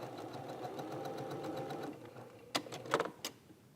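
Sewing machine stitching a dart, a quiet, rapid, even chatter of stitches for about two seconds, then stopping, followed by a few faint clicks and handling taps.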